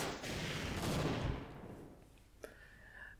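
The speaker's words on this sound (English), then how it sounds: "We will use the rocket launcher." A rocket launcher fires at a tank in Half-Life: Source, a loud broad blast that swells and fades over a couple of seconds, followed by a sharp impact crack and a faint thin whine trailing off.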